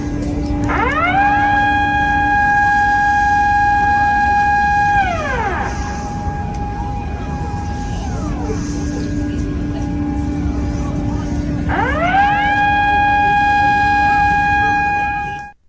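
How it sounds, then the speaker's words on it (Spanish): Air-raid sirens wail during missile attacks in Israel, each rising, holding a loud sustained tone, then falling, with two long cycles over a dense noisy background. "el sonido tanto de tsunami como las sirenas que sonaban en Israel por los ataques de misiles"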